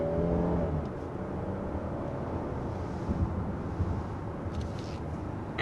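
A 2023 Hyundai Palisade cruising up a twisty highway on-ramp, with a steady, muted interior road and engine hum and light wind noise, smooth and even throughout with no talking.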